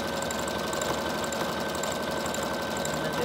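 A sewing machine runs a straight stitch and back stitch while making junk journals, a steady close mechanical whirring hum with a rapid needle rhythm and no pauses.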